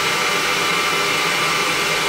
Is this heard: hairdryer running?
yes